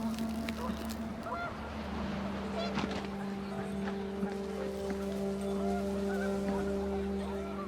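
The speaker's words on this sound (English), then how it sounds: "panicked geese appeared and quickly went" Video game geese in What Remains of Edith Finch honk in several scattered calls over a steady low electronic drone and hum, moderately loud and continuous throughout.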